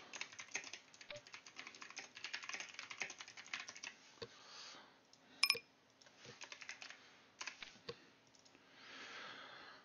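Typing on a computer keyboard, quick irregular bursts of light key clicks close by and fairly quiet, with brief pauses and a faint steady hum underneath.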